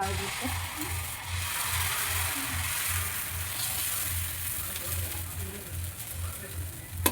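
Moong dal pesarattu dosa cooks on a hot griddle in an Andhra-style kitchen, giving a steady, close sizzling hiss throughout with a faint rhythmic low hum underneath.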